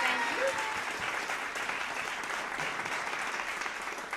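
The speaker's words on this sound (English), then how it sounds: "Let's have one more big round of applause for our storytellers this evening." An evening storytelling-event audience gives a full round of applause, dense and continuous from start to finish, with a faint voice briefly audible near the beginning.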